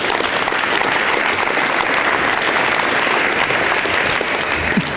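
Sustained audience applause at a mobility symposium, a dense, steady wash of clapping filling the room from start to finish with no break.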